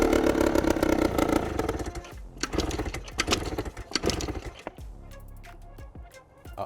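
An Adly scooter's cold engine tries to start, giving sputtering, uneven bursts of motor noise that catch briefly, fade and return several times before dying off, close and fairly loud.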